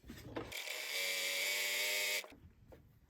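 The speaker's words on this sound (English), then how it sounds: "now I'm going to take my sewing machine and I'm going to top stitch" A sewing machine top stitching about 3 millimeters from the edge of a drawstring make-up bag, a close steady whirring motor hum for roughly two seconds between quieter handling noises.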